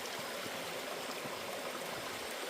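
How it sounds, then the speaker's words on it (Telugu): A forest waterfall in the Ananthagiri hills near Vikarabad makes a steady, even rushing roar of falling water, continuous and fairly distant with no voices. "ఇటువంటి ప్లేస్లో ఇట్లాంటి జలపాతం"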